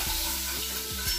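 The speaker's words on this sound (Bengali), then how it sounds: "তেল দেওয়ার পর আলুগুলো দিয়ে ভেজে নিলাম" Potatoes fry in hot oil in a heated wok, giving a steady broad sizzle with low rumbling and brief sweeping tones in the background.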